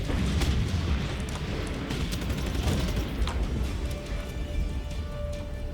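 Continuous rumbling booms and crackling blasts roll on without pause, a chaotic barrage of explosions in the video game Just Cause 3, heard at moderate volume.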